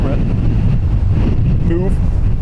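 Strong crosswind gusting at Dublin Airport, roaring buffeting noise across the microphone with a brief whistling tone, a voice faintly present under it.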